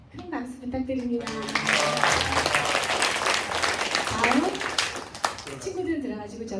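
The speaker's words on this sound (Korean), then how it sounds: "큰 박수 부탁드립니다." A church congregation claps for children receiving awards at a Sunday service, dense applause swelling quickly and holding loud, with a speaking voice heard at the start and again near the end.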